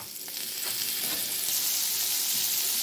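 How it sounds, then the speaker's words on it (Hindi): Boiled potatoes frying in a little ghee for aloo methi, a close, steady hissing sizzle that grows slightly louder and stays continuous, with faint stirring movements underneath. "आलू हमारे फ्राई हो रहे हैं"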